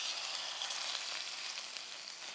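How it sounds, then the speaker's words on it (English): Steady, close sizzling of a steak fillet frying in a hot pan, a continuous bright crackle with no talking. "If you don't hear that sizzle, it means your pan was not hot enough"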